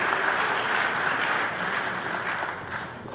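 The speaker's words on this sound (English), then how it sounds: "Round of applause for all the people from Adith who are" An audience gives a round of applause at an annual Man of the Year evening event, heard as a full, dense wash of clapping that fades gradually toward the end.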